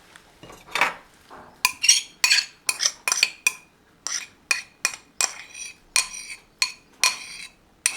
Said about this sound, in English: I'm going to pop all that into a bigger bowl so that I can mix it all together